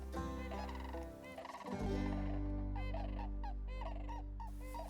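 Sandhill cranes calling in the Inland Northwest, loud rolling trilled calls repeated in overlapping bursts over a steady low drone.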